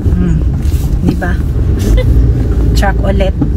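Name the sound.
truck passing on a dusty road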